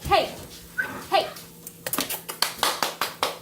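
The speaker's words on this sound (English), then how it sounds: "My dogs are fighting." Two dogs fighting indoors, with snarling and growling bursts up close, then a run of sharp rhythmic taps or claps, with a person's voice mixed in.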